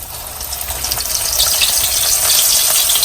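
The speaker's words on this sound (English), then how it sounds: "we're gonna come over and we're gonna drop them in the oil" Seasoned po' boy filling frying in hot oil over medium heat, giving a steady, close sizzle and crackle of bubbling oil that holds without a break from start to finish, with no talking.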